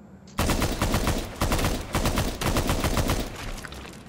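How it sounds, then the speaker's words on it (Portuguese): An explosion in Minecraft's Nether fires off as a loud burst of rapid crackling blasts, sudden after a quiet start and continuing in pulsing waves to the end. "Explosão."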